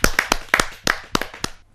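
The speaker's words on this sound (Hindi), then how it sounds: "जोरदार तालियों के साथ मदन मोहन" An audience at a Hindi poetry gathering claps in crisp, close bursts, a handful of distinct loud claps in a brisk uneven rhythm, with no speech.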